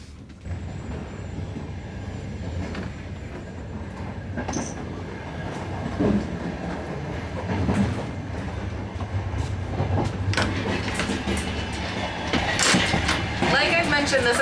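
Aboard an old overnight sleeper train in Ukraine, wheels rumble and clatter steadily on the rails with occasional metallic squeals and creaks, and a voice speaks at times in the carriage.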